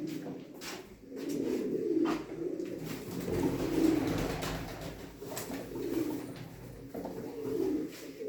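Soft, low coos from a male checkered pigeon repeat in a slow rhythm, close by and fairly quiet, with light rustling in the background.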